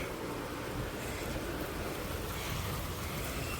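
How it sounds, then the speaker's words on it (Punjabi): Steady rain falls on the first day of the Sawan monsoon month, a dense, even hiss with a low rumbling undertone and no voices. "ਸੌਣ ਦਾ ਪਹਿਲੇ ਦਿਨ ਦਾ ਮੀਂਹ ਸ਼ੁਰੂ ਹੋ ਗਿਆ ਜੀ"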